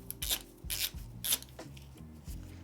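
Torque wrench turning the front wheel axle of an e-moto to loosen it, giving a series of short ratcheting, scraping bursts in an uneven rhythm, close and moderately loud with no talking.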